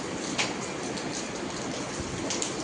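Steady rain falls on a dairy farm during morning milking of cows, a constant even hiss with a few faint drops and clatters standing out, and no talking.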